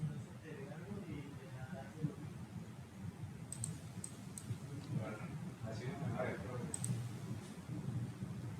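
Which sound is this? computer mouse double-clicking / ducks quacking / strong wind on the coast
computer mouse double-clicking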